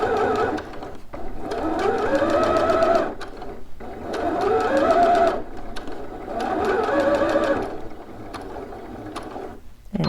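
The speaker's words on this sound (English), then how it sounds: "I'm going to be gently spreading that seam just to make sure that my dart is flat as I sew it" A domestic sewing machine stitches a dart seam on shorts or pants in three long bursts of rapid, steady needle clatter, separated by short pauses, close and fairly loud with no talking.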